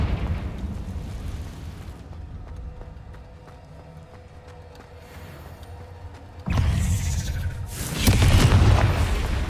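A Confringo spell explosion in the video game Hogwarts Legacy goes off as a loud, deep blast that erupts suddenly after a quieter stretch and swells again into a second rumbling burst.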